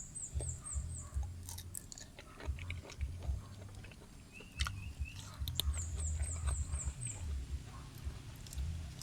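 Prawns soaked in fish sauce are chewed up close in an outdoor canal-side setting, with repeated wet crunching and smacking bites and birds chirping faintly in the background.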